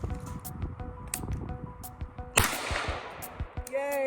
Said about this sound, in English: I shot at my 50-yard target.